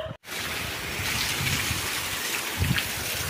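Heavy rain falling at a village house, a steady loud hiss of downpour with scattered splashes and drips, continuous after a brief dropout at the start, no voices.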